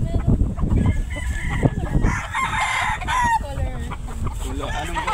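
Chickens and roosters on a Filipino farm cluck and crow in a busy, continuous chorus, several birds close by with overlapping calls and a rooster's crow rising midway.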